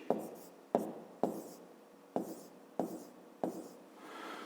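Pen writing numbers during a maths exercise on unit conversion, six close, sharp tapping strokes at irregular intervals, each followed by a short scratchy trail.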